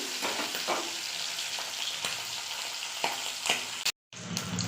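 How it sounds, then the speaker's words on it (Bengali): Hilsa fish heads fry in hot oil with a continuous close sizzle and a few faint scrapes as they are turned, then a brief cut to silence before the frying resumes. "মাথাগুলো আমি উল্টে দিচ্ছি প্রায় ভাজা হয়েই এসেছে"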